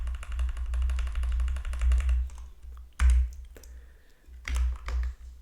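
Rapid clicking of keys on a computer keyboard while entering commands in the Neovim editor, a dense typing burst followed by a few separate, louder keystroke clusters.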